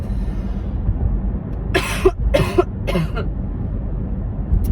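Three short, harsh coughs in quick succession, close to the mic, over a low background rumble.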